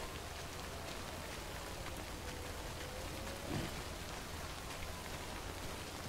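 Steady rain falls in the Death Stranding video game, a dense, even hiss of drops on surfaces at moderate level, with a faint low rumble partway through.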